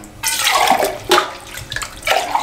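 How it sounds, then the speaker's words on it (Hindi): Water pours in a steady, splashing stream into a jug for a shikanji lemon drink, with surges in the flow, close and fairly loud. "ये 1 लीटर पानी लूँगा इसमें से मैं।"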